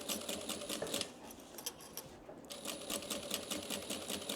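A sewing machine stitches over a thick seam on a bag, a fast, even run of close needle strokes that pauses briefly near the middle before resuming.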